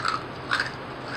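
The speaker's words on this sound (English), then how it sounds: "I'm chewing on ice right now" Ice being chewed close to the mouth, two sharp crunches spaced apart over a steady background hiss.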